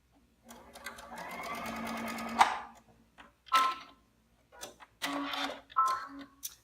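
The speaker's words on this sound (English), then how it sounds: "I do remove my pins as I go along because I do not like to sew over my pins" A sewing machine stitches quilt binding in short bursts: one longer run of steady whirring followed by several brief stitching spurts separated by quiet pauses, close and clear with no talking.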